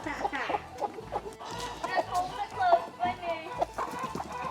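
A molting chicken clucks and murmurs repeatedly up close, with short rhythmic calls continuing throughout, alongside some light background activity.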